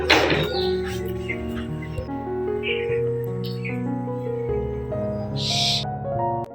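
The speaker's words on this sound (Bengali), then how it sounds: "এই টাইমটায় না অনেক রকম পাখি আসে, আর এত সুন্দর আওয়াজ হয় চারপাশটায়।" Several birds call and chirp around a home courtyard in the evening, bright repeated notes and whistles layered over a sustained tonal hum, close and fairly loud.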